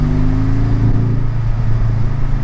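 A Porsche 718 Cayman GTS fitted with a Fabspeed Supercup exhaust runs in normal mode, giving a loud, steady throaty drone close by with a slight rise under throttle and no speech over it.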